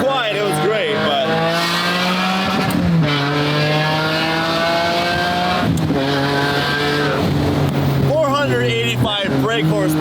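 A 485-horsepower car on coilovers with a newly loud exhaust pulls along the road, its steady engine drone rising and falling with shifts and throttle, close and loud, with people talking over it.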